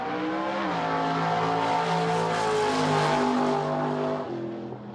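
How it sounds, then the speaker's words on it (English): A muscle car engine roaring loudly and steadily as the car passes close by, its pitch sliding downward in a clear Doppler drop before the sound eases off at the end. "the sounds of these muscle cars"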